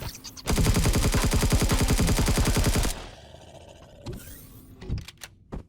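Enemy fire in the Empyrion Galactic Survival video game: a loud, rapid automatic burst of evenly spaced shots lasting over two seconds, followed by quieter mechanical clunks and scattered thuds.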